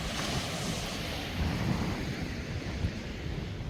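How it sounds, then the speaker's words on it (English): Pacific Ocean surf washes in a broad, continuous hiss, mixed with gusty wind buffeting the microphone, with no voices present. "Pacific Ocean."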